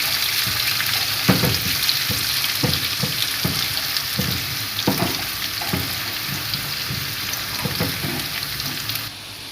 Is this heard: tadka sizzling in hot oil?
yes